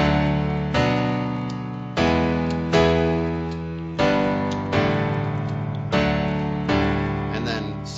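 Piano chords for the verses of a song, struck as sustained chords at regular intervals, roughly every second beat, each ringing and decaying before the next, played alone and clearly.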